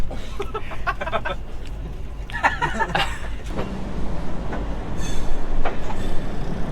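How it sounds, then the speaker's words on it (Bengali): Passenger express train from Kolkata to Jammu Tawi entering Lucknow Charbagh junction, with a rhythmic clatter of wheels over rail joints, squeals and metallic knocks, and a rumbling that grows louder toward the end. "দেখতে দেখতে ট্রেন প্রবেশ করছে লখনউ চারবাগ জংশন"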